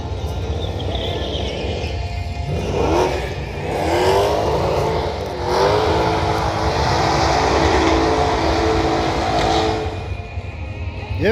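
A Holden HK Premier revs hard at a drag strip start line during a street meet, engine note rising and falling through several loud sweeping revs over a constant crowd-and-track rumble, with no talk.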